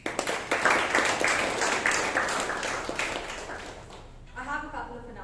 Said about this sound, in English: So a huge round of applause for each one of you.